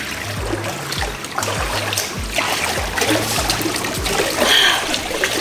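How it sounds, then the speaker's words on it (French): Swimming pool water trickling and splashing steadily in an outdoor pool, a continuous close wash of dribbling water with no talk over it. "je suis désolée pour le bruit de la piscine, mais bon il y a pire comme bruit"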